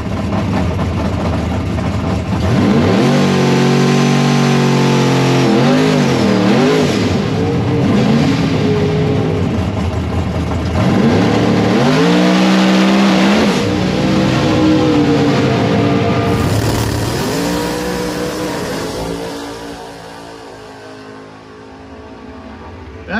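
A race car roars nearby through long engine pulls, the pitch climbing and falling repeatedly as it launches and accelerates, its tires losing grip, loud and steady for about twenty seconds before fading toward the end.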